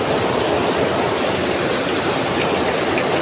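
Heavy rain pours steadily, a loud, unbroken hiss of falling water close by, with no voices heard.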